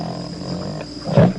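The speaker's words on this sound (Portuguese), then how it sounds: "instrumento rústico, feito de bambu e pele animal, uma espécie de cuíca, que ao ser friccionada internamente com a mão molhada, pode emitir o rugido de uma onça" A rustic roncador friction drum of bamboo and animal hide, rubbed inside with a wet hand, gives a jaguar-like roar. The growl rumbles low for the whole moment and swells louder near the end.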